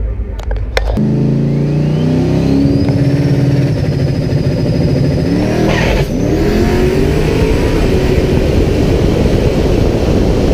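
A built Chevrolet Tahoe's engine starts abruptly and roars as it accelerates hard on a run, revving up through the gears, loud and close with a rising whine over the rumble.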